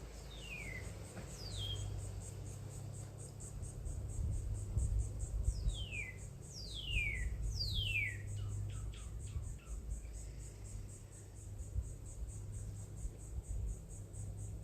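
Crickets chirp faintly outdoors in Florida as a steady high-pitched pulsing trill, while small birds give a few quick descending calls over a low background rumble.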